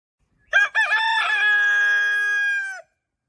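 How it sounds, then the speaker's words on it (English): A rooster crows once, loud and close, with a choppy start and a long sustained final note, then silence. "When Scheherazade heard the rooster crow,"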